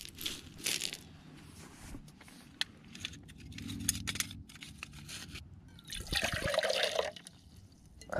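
Water pours and splashes into a small pot for boiling at an outdoor kayak camp, a soft trickle with a louder, brighter splashing burst toward the end, with no talking.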